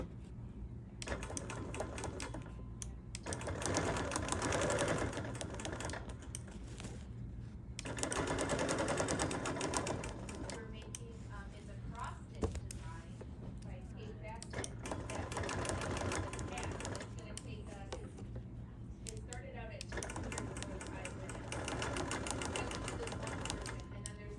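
A sewing machine quilts across the border of a quilt with a steady, rapid needle rattle that swells and eases in bursts, close and fairly loud throughout, with someone talking over parts of it.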